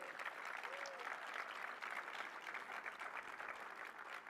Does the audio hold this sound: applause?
yes